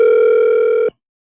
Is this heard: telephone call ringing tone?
yes